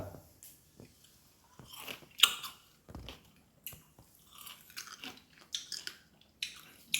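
Someone bites into a small, sweet-sour red fruit, followed by several crisp crunches and wet chewing sounds at close range, with quiet pauses between bites.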